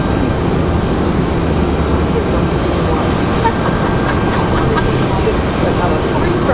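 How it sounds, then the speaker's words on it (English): A Delta jet arriving from Atlanta touches down at Raleigh-Durham International Airport, a steady, loud, distant roar holding for several seconds. "Looks like a Delta from Atlanta is going to touch down first."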